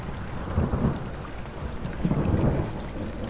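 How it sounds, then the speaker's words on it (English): Steady rain and rolling thunder in the horror game Amnesia: The Dark Descent, a constant wash of rainfall with two low rumbling swells, fairly loud and without speech. "that's freaking rain and thunder and lightning already"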